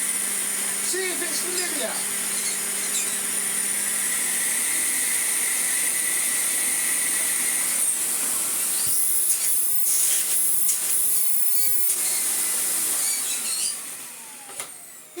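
AEG Vampyr 7202 canister vacuum cleaner running on low after refurbishment, a steady loud whine and airy hiss throughout, with a voice speaking briefly over it and small pitch shifts as the motor settles.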